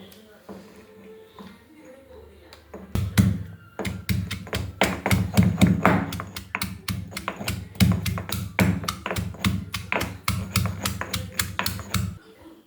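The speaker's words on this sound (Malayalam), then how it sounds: "അതെല്ലാം കൂടി ഒന്ന് ചതച്ചെടുക്കാം." Shallots, green chili and ginger being crushed by hand, a rapid series of sharp, close pounding knocks in steady rhythm that starts after a quiet opening and continues for about nine seconds.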